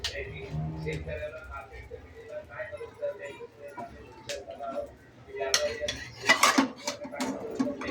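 A spoon stirs round and round in a metal cooking pot, scraping and clinking irregularly with sharper clanks near the end, close by, while someone talks over the stirring.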